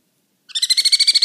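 A baby sun conure starts chirping after a moment of silence, a rapid run of high, evenly spaced peeps, close and loud.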